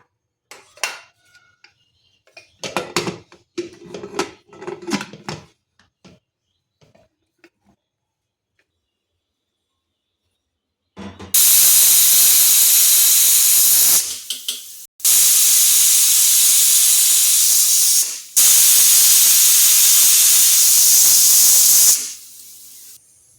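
Soft talking at first, then a pressure cooker lets out three loud, hissing steam whistles in a row, each lasting a few seconds.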